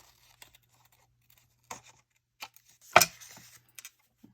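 Scissors cut through paper for a leaf envelope craft. A few separate snips come close up against a quiet background, with one sharper, louder cut in the middle.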